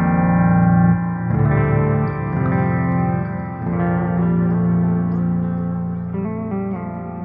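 An electric guitar played through the STL ToneHub SOV M50 Clean 6 preset rings out sustained clean chords and notes, loud and close with a reverberant tail, with no voices.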